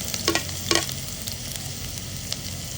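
Garlic, onion and ginger sizzle in a hot pan for arroz caldo, a steady close frying hiss broken by a few sharp scrapes and clinks of stirring.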